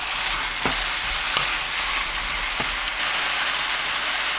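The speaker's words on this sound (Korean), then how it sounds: "1분 볶습니다." Fish cake stir-fries in a hot pan with a steady, close sizzle, broken by a few sharp scrapes of a utensil against the pan; no voices.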